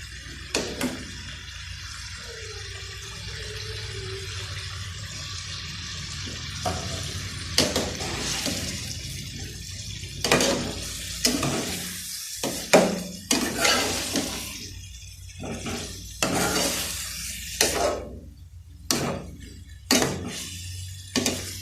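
Chicken being stirred into masala in a pan for matar chicken, with a run of sharp scraping and clattering strokes of a spoon against the pan, loud and close, after a quieter stretch of low cooking noise.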